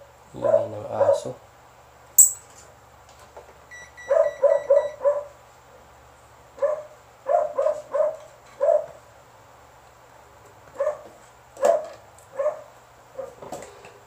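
Repeated dog barks come in quick clusters, mixed with higher yips and whiny whimpers, close by over a low steady hum.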